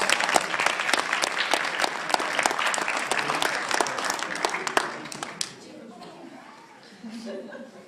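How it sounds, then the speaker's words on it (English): A live show audience bursts into loud applause, dense clapping for about five seconds before it drops away abruptly, leaving a host talking and crowd murmur. "Everybody give them a big round of applause."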